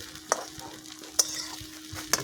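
A spatula stirs flattened rice pulao (chirer pulao) in a pan over an outdoor village fire, three sharp scraping clacks landing over a continuous close sizzle.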